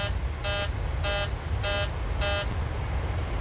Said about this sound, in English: here we go, another alarm